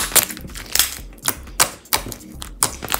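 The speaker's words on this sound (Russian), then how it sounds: "Он даже очень круто кликает," Slime being squeezed and worked by hand, giving a run of sharp, crisp clicks and pops in irregular bursts, close and fairly loud with no talking.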